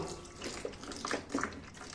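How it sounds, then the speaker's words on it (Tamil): Running water rinses vinegar-marinated paneer in a brief, faint splash and trickle, soft and close without speech. "கொஞ்சம் தண்ணி விட்டு நல்லா அலசிக்கோங்க"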